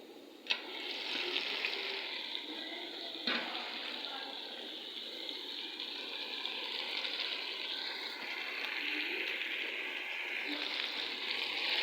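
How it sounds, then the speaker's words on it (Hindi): Meat and tomatoes fry in a cooking pot, giving a soft, steady sizzle and bubbling hiss throughout, fairly quiet with a couple of brief clinks near the start. "गोश्त भी अच्छे से फ्राई हो गया।"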